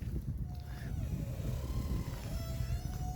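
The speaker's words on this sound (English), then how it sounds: "Big lobster fishing boat there, making some noise." A large lobster fishing boat engine on the Bay of Fundy drones steadily at a middle distance, a low rumbling hum mixed with wind buffeting the microphone.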